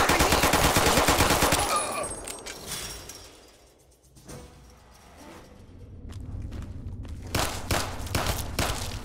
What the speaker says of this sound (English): We'll go back to our 10mm with the armor piercing rounds.